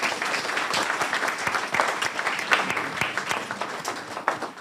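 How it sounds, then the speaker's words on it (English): An audience at a youth civic awards ceremony applauds Mayor Walsh with dense, continuous clapping that rises and falls slightly, heard from within the room at moderate loudness. "So give Mayor Walsh another round of applause,"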